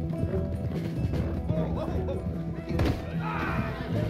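A horse's hooves clip-clop in Red Dead Redemption 2 over game music, with a louder thud and clatter partway through as a voice talks.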